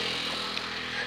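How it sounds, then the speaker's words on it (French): A motorcycle goes by close, its engine a steady droning hum with a slight rise as it passes, filling the short moment. "Une moto."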